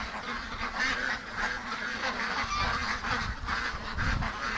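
Ducks being raised for charity quack and honk together at a gate, a close, continuous chorus of overlapping calls with a few louder bursts throughout.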